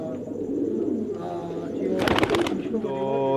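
Pigeons, prized fancy Peshawar birds in a loft, coo softly through a steady murmur of background noise, with a sharper burst of bird calls near the middle and someone talking over them.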